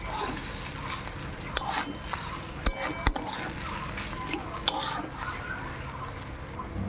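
Fish roe pakora batter is stirred in a bowl, giving close, wet mixing sounds punctuated by occasional sharp clinks of a utensil against the bowl.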